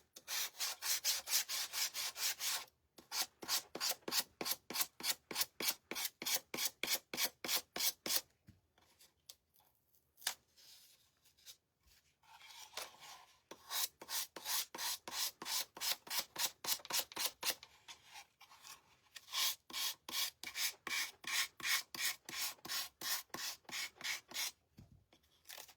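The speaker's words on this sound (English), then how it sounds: "we're just going to go around and sand this off" Rhythmic sanding strokes rub away the rice paper edges on a vintage decoupage surface, coming in close, steady bursts of back-and-forth rasping with brief pauses between runs and no talking.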